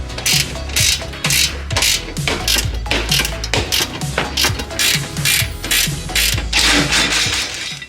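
A hand ratchet loosens bolts on a bracket inside a Transit van being fitted with swivel seats. The rapid pawl clicking sounds close and loud, in repeated bursts of winding with brief pauses, and no one speaks.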